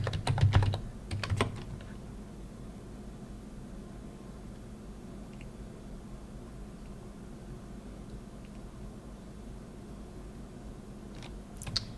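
A terminal command is typed on a computer keyboard: quick bursts of close key clicks at the start, a long quiet stretch, then a few more keystrokes at the end.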